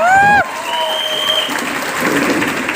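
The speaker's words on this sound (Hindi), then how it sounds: "एक बार भैया के एक्साइटमेंट के लिए जोरदार तालियां।" Loud audience applause breaks out at a motivational business event in India, a dense wash of clapping that follows a brief musical sting and continues steadily to the end.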